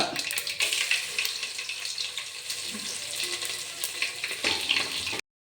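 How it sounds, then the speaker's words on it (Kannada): Garlic frying in a pan for tamarind gojju gives a steady, close sizzle that holds at an even level throughout, with a brief clatter near the start. "ಬೆಳ್ಳುಳ್ಳಿ ಹಾಕ್ತಾ ಇದ್ದಾರೆ ಇವಾಗ"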